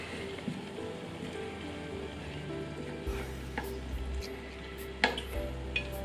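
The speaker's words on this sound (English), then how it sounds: "I'm going to start frying the potatoes as well." Potatoes frying in oil in a pan for chicken stroganoff, a steady soft sizzle and crackle throughout with a few sharper pops and clinks near the end.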